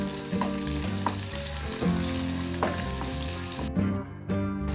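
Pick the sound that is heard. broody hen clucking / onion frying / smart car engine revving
onion frying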